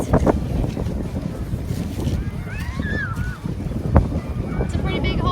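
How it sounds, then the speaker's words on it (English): Wind at a beach buffets the microphone in gusty rumbles, with surf faintly behind and voices talking over it. "It's a little windy."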